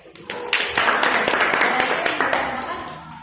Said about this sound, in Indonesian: Tepuk tangan dulu untuk anak kita itu.